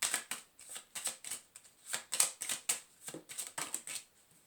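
Tarot cards are shuffled by hand close up, giving a quick series of crisp riffling and slapping bursts in an uneven rhythm, with no talking.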